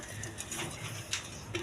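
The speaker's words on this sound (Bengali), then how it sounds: "দর্শকবৃন্দ, এখানে এক পেয়ার হাই ফ্লাইং গিরিবাস কবুতর আছে" A pair of high-flying Giribaz pigeons on a farm give soft, faint coos and light fluttering sounds, scattered in short bursts over quiet background noise.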